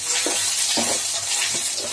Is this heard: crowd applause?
no